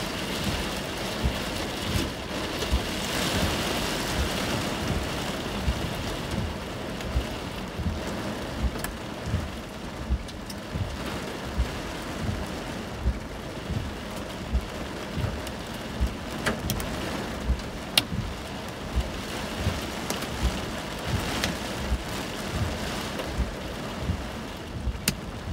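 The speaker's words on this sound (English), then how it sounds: "See, the rain curtain's whipping in front of us too." A steady, roaring downpour during a severe thunderstorm near Festus, with a dense, even hiss of heavy rain and scattered sharper impacts running continuously, and no speech.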